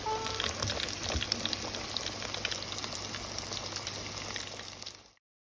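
Fish frying in hot oil gives a dense, continuous sizzle and crackle with scattered pops. It stays steady and fairly close for about five seconds, then cuts off abruptly.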